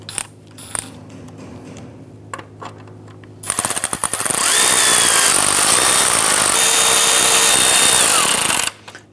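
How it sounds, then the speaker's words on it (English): A power tool driving Torx bit screws into a Ford Explorer front grille, a few light clicks and taps, then a loud sustained whirring drive for several seconds that stops abruptly. "Install your 4 Torx bit screws, 2 on the driver, 2 on the passenger side."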